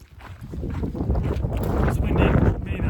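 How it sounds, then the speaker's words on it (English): Steady gusting wind buffets the microphone, a broad low roar that swells and rises toward the end. "It's windy. May not be able to hear this."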